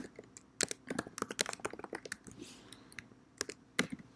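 Soft computer clicking and keyboard tapping picked up during a screen recording of React Native coding: irregular, quiet clatters and clicks in uneven bursts, faint and close, with no voice.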